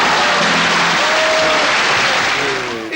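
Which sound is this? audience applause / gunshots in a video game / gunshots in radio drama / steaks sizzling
audience applause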